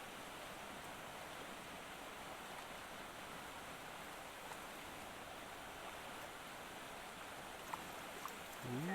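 A river flows steadily around a small island along the Appalachian Trail in Maine, giving a constant broadband rush of moving water with no voices. A couple of faint brief knocks near the end sit over the flow.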